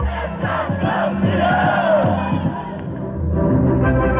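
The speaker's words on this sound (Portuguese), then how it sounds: "Os 22 escolhidos partem ouvindo os gritos de uma torcida profética" Brazilian football fans shout and chant together as the national team departs for the World Cup, a loud, continuous crowd roar with rhythmic rising cries repeating across the moment.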